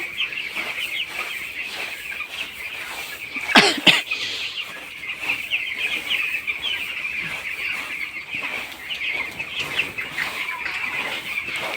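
Thirteen-day-old chickens in a shed with feed hoppers and automatic drinkers keep up a continuous, fairly close chorus of cheeping and clucking, with a brief burst of flapping partway through.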